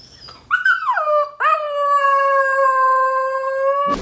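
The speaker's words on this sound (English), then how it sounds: "I've only seen him howl once. Thank God we got it on film." Young Siberian husky howling in a recording played back: one rising yelp, then a long sustained, wavering howl that holds steady and loud, close and alone.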